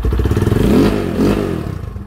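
A nearby long-unused Rusi Sigma 250 motorcycle engine chugs and revs, its throttle rising twice in quick bursts over a steady, throbbing idle.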